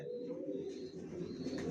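Johnson-line racing pigeons in a loft give a soft, low cooing that rolls along steadily and close by. Faint higher chirps and loft ambience sit behind the coos.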